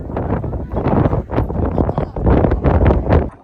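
Strong wind on the open Mullayanagiri hilltop buffets the microphone with loud, continuous rushing gusts that swell and ease throughout, with no other sound standing out.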